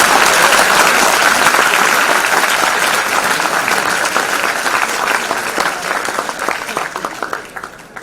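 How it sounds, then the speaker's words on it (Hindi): A large audience of chartered accountants at an event in Bhopal breaks into loud, sustained applause. The clapping is thick and close, with individual claps audible, and it gradually tapers off near the end. "तालियां तो बजाओ, आपका स्वागत है।"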